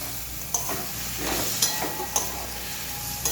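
Potatoes going into a pan of spice paste frying in oil over low gas, with a steady close sizzle and occasional stirring scrapes and clinks.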